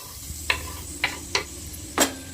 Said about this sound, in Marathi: कांद्याबरोबर टोमॅटो पण परतला जाईल चांगला नाही का